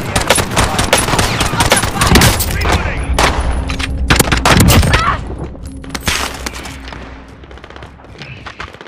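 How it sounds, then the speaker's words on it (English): Heavy gunfire in the PC shooter Call of Duty Warzone, loud rapid automatic bursts and sharp shots clustered over several seconds, then thinning to scattered distant cracks, with game voices and effects mixed in. "Taking fire!"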